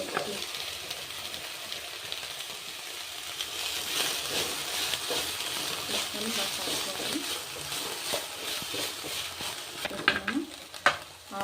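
Capsicum and green chillies sizzling and frying in a pan while being stirred, a steady hiss with scraping stir strokes, a voice talking over it.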